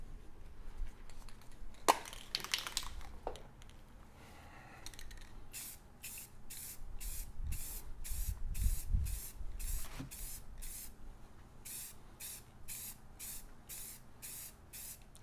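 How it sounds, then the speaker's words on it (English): A spray can mists finish onto a walnut wooden sign in a long run of short, evenly spaced bursts, soft and fairly close, after a few quiet handling knocks. "So I normally do a light mist over from one direction, and then I'll come back over on the camera side and I'll hit it again from the other direction."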